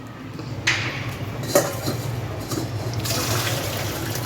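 Water drained off cooked lentils in a home kitchen while making puran poli: a steady pour and splash with a few light clinks of a pot or utensil, close and continuous.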